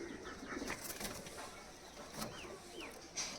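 Teddy pigeons coo softly in a few brief, faint bursts over a quiet, hissy background, with light chirpy calls scattered through.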